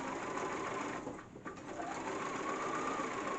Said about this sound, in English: I'm edge stitching the extension raw edge under.